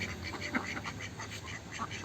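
Village ducks quack in a steady run of repeated calls at a moderate, close distance, with no talking over them.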